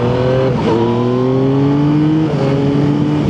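Yamaha MT-09 motorcycle engine revving up steadily through rising harmonics, dipping briefly and climbing again with a hesitant flat spot, loud and close throughout with no talking.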